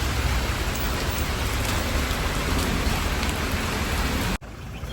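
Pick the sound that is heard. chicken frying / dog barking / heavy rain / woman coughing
heavy rain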